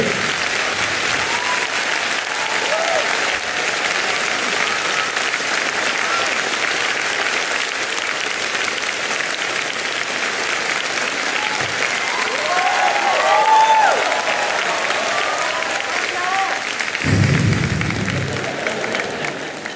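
Sustained audience applause at a 2006 Wong Tze-wah stand-up comedy show fills the space, dense clapping from a crowd holding steady throughout, with a brief swell near the end.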